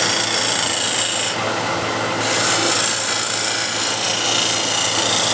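A hand scraper held down against rotating wood produces a loud, continuous close rasping hiss of fine shavings being cut, steady throughout with a brief slight dip.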